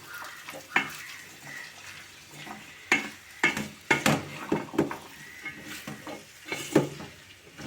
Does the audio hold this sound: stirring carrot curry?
yes